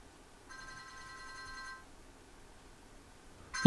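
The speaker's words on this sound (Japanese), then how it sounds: "携帯で着信音鳴らします。" A mobile phone ringtone plays a short electronic melody of bright, steady tones for about a second, faintly over quiet background hiss, then stops, recorded on a Canon iVIS HF M43 camcorder with a Shure Beta 58A microphone.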